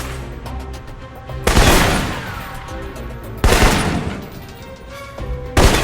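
Assault rifle fire in the video game Alpha Protocol comes in three loud, sharp bursts spaced a couple of seconds apart, each with a trailing echo and no voices over it.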